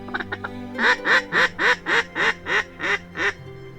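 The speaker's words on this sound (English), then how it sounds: "All the ducks are landing on the other side of the lake." Ducks on a lake give a loud, close run of about ten rhythmic, evenly spaced quacks, preceded by a few short quick calls.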